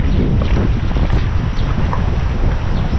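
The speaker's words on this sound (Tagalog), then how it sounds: "Lakas ng hangin ah" Strong wind at sea batters a small boat that has no outriggers, a loud, steady roar of gusts buffeting the microphone throughout, with rumbling low noise and no voices.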